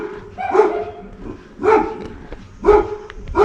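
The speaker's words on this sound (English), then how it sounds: "So many dogs are barking." Dogs bark outdoors at night in three separate bursts of loud, close woofs spaced about a second apart, with quieter yips between them.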